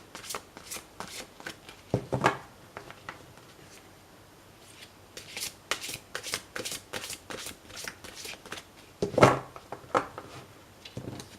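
Oracle cards being shuffled by hand, with bursts of quick riffling and card flicks separated by short pauses, close and fairly quiet, two louder shuffle bursts standing out, no voice.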